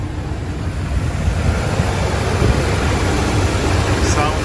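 A 1985 Dodge Ramcharger's 318 V8 idling steadily, a loud continuous low rumble with a wash of broadband roar and no breaks.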